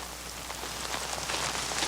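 Heavy rain pours down steadily at a horse farm, a dense, constant hiss of drops hitting the ground that grows slightly louder, with no voices over it.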